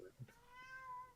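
Pumpkin, a pet cat, lets out a clear drawn-out meow close to the microphone, preceded by a brief soft chirp.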